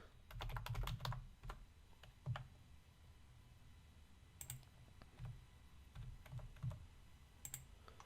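Quick bursts of keystrokes on a computer keyboard, entering a username and PIN, clatter in close, irregular clusters with short pauses between runs of clicks.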